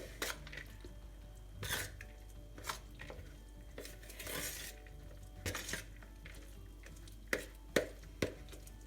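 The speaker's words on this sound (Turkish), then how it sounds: "Şimdi bu malzemelerimi de tekrardan karıştırıyorum." A grated kashar cheese mixture is stirred in a bowl, with scattered clinks and taps of a utensil against the bowl at irregular intervals, quiet between strokes.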